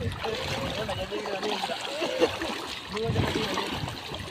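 Floodwater splashing and rushing on a road after heavy rain, a steady wet churning close by while several people talk over it throughout.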